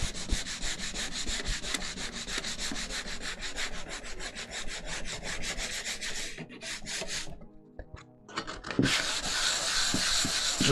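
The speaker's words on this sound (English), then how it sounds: "all I'm doing is scuffing the inside of this" An inside surface being scuffed by hand before painting, with continuous rhythmic rasping strokes, close and steady, pausing briefly before the scuffing resumes.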